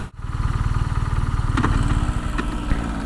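BMW R nineT motorcycle riding along country roads in fine weather, its engine giving a steady, close, throbbing drone that continues throughout, with a brief break at the very start and no talking.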